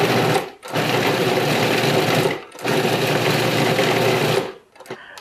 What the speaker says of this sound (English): we'll put them in the food processor because basically at this point we're just looking to make breadcrumbs